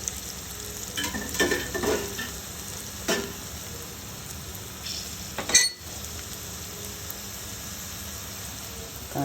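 Pieces of bitter gourd fry in hot oil with a constant close sizzle, broken by stirring scrapes and a few clinks of a spoon against the pan, with no voices.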